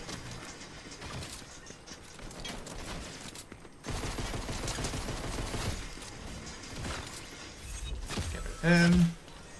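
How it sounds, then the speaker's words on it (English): Gunfire in the Fortnite video game, with rapid bursts of shots and mechanical clatter mixed with game sound and music. It grows louder and denser partway through, with a sharp tonal game cue near the end. "Who is this idiot shooting?"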